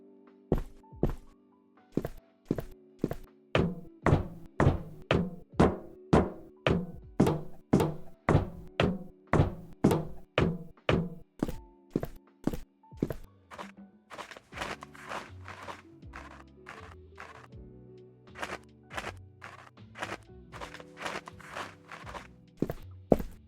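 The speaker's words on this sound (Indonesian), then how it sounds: "Pas jalan di tanah, suaranya lebih halus. Tapi pas pindah ke besi, langsung kerasa lebih keras dan dingin." Video game footsteps in a Unity horror hospital game fall in a steady rhythm, first crisp and sharp on dirt, then shifting to heavier, duller clanking steps on metal, with nothing else heard.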